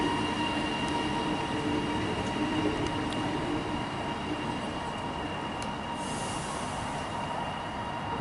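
Melbourne suburban train moving at East Pakenham, a steady rumbling roll with faint wheel squeal, continuous and fairly distant, with no talking.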